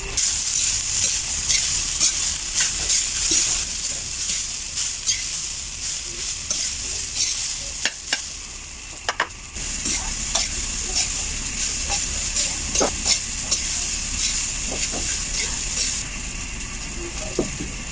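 Leftover rice fries and gets stirred in a pan for sinangag garlic fried rice, a loud steady sizzle broken by the frequent scrape and clack of a spatula, with no one talking.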